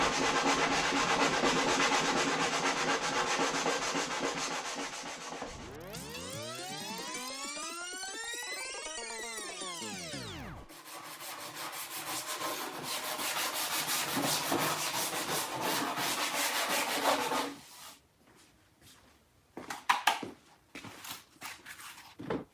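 Close-up, scratchy strokes of hand sanding on a wood door with a small profiled sanding tool, broken midway by a sweeping electronic tone, then more sanding before it goes quiet.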